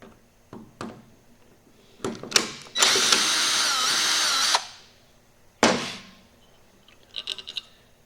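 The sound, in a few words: power tool removing a bolt from a Dodge 48RE transmission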